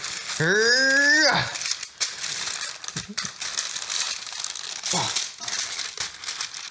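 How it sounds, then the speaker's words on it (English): Parchment paper crinkles and rustles as it is laid over cookie dough in a kitchen, with several crisp crumpling bursts, while a voice briefly speaks or exclaims near the start. "now we cover it with parchment paper, like this"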